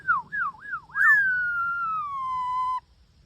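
A female myna bird mimics a siren: a few quick rising-falling wails, then one long, slowly sinking tone that ends abruptly, loud, close and alone.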